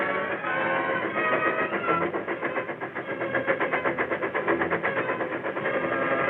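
A steady rumbling engine with a rhythmic clatter builds and pulses, like a train rolling along the tracks at moderate distance.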